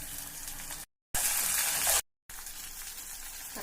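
Ginger garlic paste hitting hot oil with golden-brown fried onions in a pan for prawn gravy, giving a steady bright sizzle and hiss, close and loud, broken by two brief cuts of silence.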